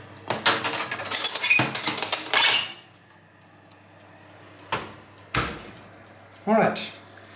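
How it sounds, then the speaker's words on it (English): A baking tray of seasoned pumpkin slices slid into an oven: a metallic rattle and scrape of the tray, then a few separate clunks of the oven door and rack, close by, with brief talking. "let's insert this tray into the oven"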